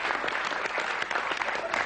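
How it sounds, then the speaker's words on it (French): A studio audience at a French television show applauds, giving a brief, dense, even wash of clapping with no clear voices. "ça mérite aussi des applaudissements, ça"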